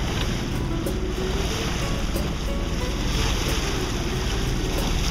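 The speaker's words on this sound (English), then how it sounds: "Winds picked up, they're nice, about 10 to 12 knots the last hour or so." Steady wind and wave wash aboard a sailboat in a 10 to 12 knot breeze, a continuous loud rush with microphone wind buffeting and water slapping the hull, no voices.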